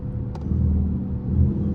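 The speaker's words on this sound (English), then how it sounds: "for those who wonder why my car is so damn loud, bro, it's because I gutted the cats" Dodge Charger RT with a 5.7 engine and gutted catalytic converters, its loud exhaust giving a steady deep rumble that swells slightly mid-way, close and continuous with no talk.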